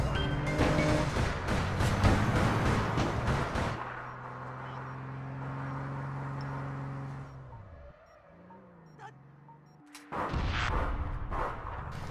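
Gunfire in the APB Reloaded video game: a dense burst of rapid shots over roaring vehicle engine noise, then a steady engine drone, and another loud burst of firing near the end, with no talk.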